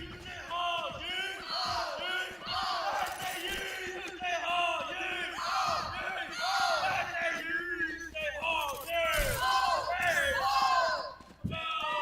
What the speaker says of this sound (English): Converse, very loud in the crowd.